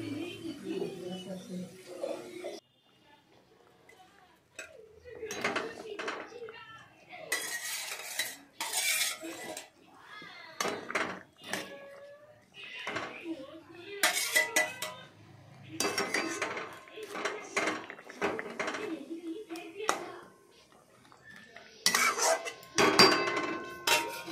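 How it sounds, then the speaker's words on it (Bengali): A spoon stirs a mustard khoyra fish curry in a pan after water is added, making repeated clinking and scraping bursts in uneven rhythm, close and moderately loud, with short pauses between strokes. "এটাকে ভালো করে নাড়াচাড়া করলাম"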